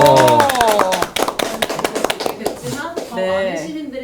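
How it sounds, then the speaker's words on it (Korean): Studio hosts break into a burst of hand clapping, a quick run of sharp, close claps lasting a couple of seconds, with voices talking before and after. "우리가 박수 친 걸 지금 시청자분들 들으셨나요?"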